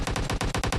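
Rapid automatic gunfire in a battle royale video game scrim, a loud, dense run of about eight bursts in quick succession with no talking.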